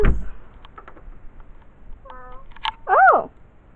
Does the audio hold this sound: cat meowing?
yes